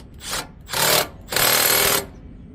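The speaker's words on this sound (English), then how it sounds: "Go ahead and tighten it back down with your impact," Impact wrench tightening a bolt back down on a Billy Goat PR550-H professional power rake, three loud rattling bursts, short, longer, then longest, close by with no talking.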